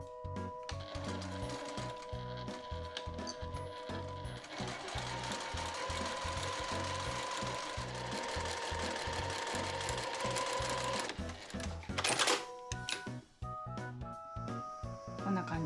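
A sewing machine runs in a steady, rapid stitching rhythm, sewing a straight seam 2 cm from the edge of gauze fabric for a bolero shawl, with a brief clatter near the end as the stitching stops.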